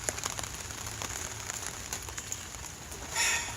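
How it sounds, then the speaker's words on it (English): Rain falls outside a tool tent on a porch: a soft, steady patter with scattered small ticks and crackles of drops striking the surface, with no voices. "It's been raining."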